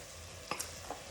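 Grated carrots drop into a hot, sizzling pan while pav bhaji is being cooked, giving a brief burst of hissing frying with a couple of light stirring clicks over the steady background sizzle.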